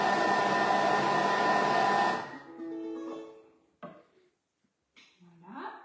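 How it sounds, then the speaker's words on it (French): A Thermomix food processor whirs loudly at speed 5 for about two seconds while mixing pizza dough, then cuts off abruptly, leaving quiet handling sounds and a brief voice. "Et on va mixer 3 secondes seulement vitesse 5."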